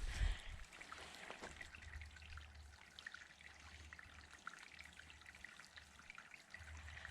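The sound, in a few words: small stream of water trickling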